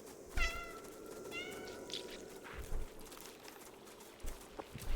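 A cat meows in the video game Stray, a few short high cries in close succession over a quiet ambient bed with faint soft footsteps.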